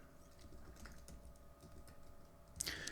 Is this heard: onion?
no